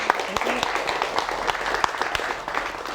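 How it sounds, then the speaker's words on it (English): Audience applause welcoming Sylvie, a fighter, at a clinch seminar, a steady wash of clapping from a crowd with scattered sharper claps and some voices mixed in. "Give her a very big clap, please"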